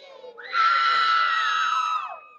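A crowd at a baseball game lets out one loud, shrill collective shout and cheer that rises sharply, holds for about a second and a half, then fades.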